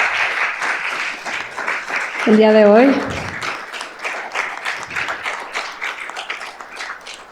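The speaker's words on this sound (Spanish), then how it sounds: "les pido un aplauso para nuestros panelistas" An audience at a panel session breaks into dense applause for the panelists, sustained throughout, while a voice talks over it and a brief tonal sound rises in the middle.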